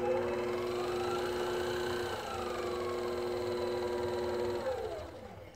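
Spindle of a Centroid Acorn CNC machine running on a DC motor controller: a quiet, steady electrical whine and hum with tones that ease down and then rise as the speed changes, before winding down at the end.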